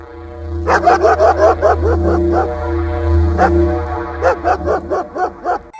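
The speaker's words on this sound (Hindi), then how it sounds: "जहाँ एक खूंखार कुत्ता उसे देखकर जोर जोर से भौंकने लगता है" A dog barks loudly and close by in quick repeated bursts, pausing briefly mid-clip before a second rapid run of sharp barks.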